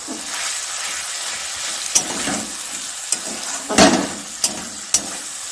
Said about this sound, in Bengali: এটি হালকা করে ভেজে নেব